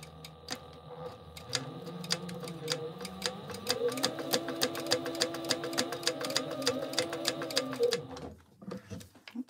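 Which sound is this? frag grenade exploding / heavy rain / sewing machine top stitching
sewing machine top stitching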